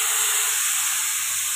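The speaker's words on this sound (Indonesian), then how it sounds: "Masukkan bumbu halus pada minyak panas." Ground chili spice paste hits hot oil in a home kitchen and sizzles with a loud, steady, bright hiss that holds evenly throughout, alone and close.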